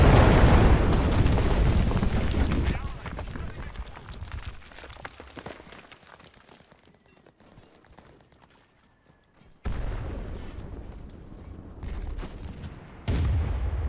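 Artillery bombardment in the World War II shooter Enlisted: heavy booming explosions and rumbling blasts, loud at first, fading into distant crackling gunfire, then sudden loud impacts return near the end.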